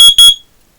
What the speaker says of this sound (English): Testing smoke. Testing carbon monoxide.